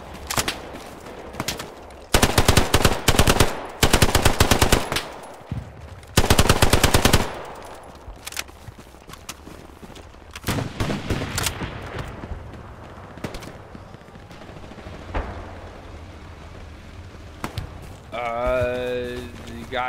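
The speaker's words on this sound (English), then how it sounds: "Guys are shooting us east." Rapid automatic gunfire bursts crackle loudly in an online shooter match, with repeated heavy volleys and scattered single shots from enemies to the east, while players talk urgently over the fighting.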